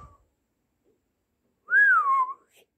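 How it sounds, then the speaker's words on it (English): A single person whistles one clear, sliding note that rises and then falls, alone in a quiet room after a brief silence. "I know how to whistle."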